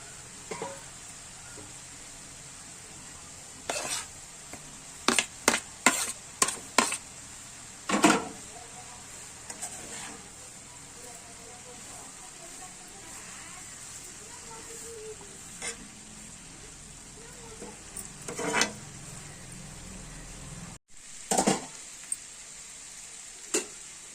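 Tomatoes and cabbage sizzling in hot oil in a home kitchen, a constant frying hiss running throughout, punctuated by sharp clinks and scrapes of a spoon stirring the pan, close and without talk.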